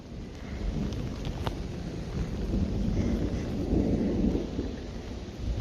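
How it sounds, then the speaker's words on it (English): Thunder rumbles during a rainstorm, a low rolling swell that builds under steady rain and wind hiss, heard outdoors at moderate distance with no talking. "Can you hear the thunder?"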